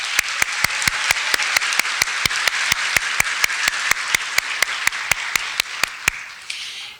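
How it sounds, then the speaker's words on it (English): An audience at a high school National Honor Society induction ceremony claps in a big hall, a broad, steady wash of applause with a few sharp regular clicks on top, tapering off at the very end. "Let's give them all a round of applause."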